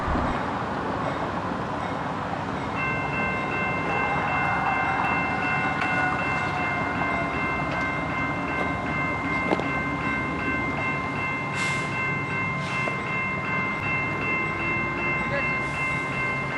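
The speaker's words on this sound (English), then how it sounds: "we ended up catching another BNSF freight train as it passed the crossing" A BNSF freight train rumbles steadily past a railroad crossing with continuous rolling noise, while a sustained multi-tone crossing horn or bell chord holds above it.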